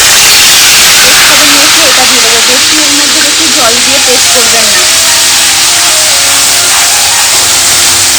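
Ground onion paste frying hard in hot oil with cardamom, cinnamon, cloves and dried chillies for a Bengali katla fish kalia: a loud, steady sizzle and hiss throughout, with a voice talking over it for the first half.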